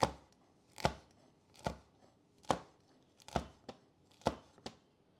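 A knife slices banana peppers about 1/8 inch thick on a cutting board, about eight crisp, close thuds in an even rhythm with brief quiet gaps between them.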